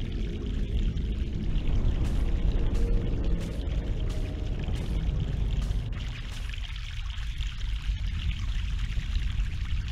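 Fresh mountain water poured in The Longest Journey video game, a steady broad splashing pour running continuously and fairly loud, with a slight dip in intensity partway through, alone without talk.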